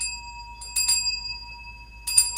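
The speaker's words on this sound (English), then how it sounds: "Hear my bell." A small ritual bell rings in bright, clear strikes, a few quick rings, then a pause, then another ring, each leaving a sustained shimmering tone.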